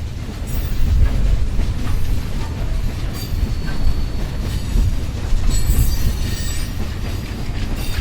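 A train rolling along rails, loud and close, with a continuous low rumble, rhythmic wheel clatter and some high wheel squeal, with no voices.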